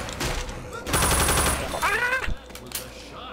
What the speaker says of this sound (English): That was a shot, all right.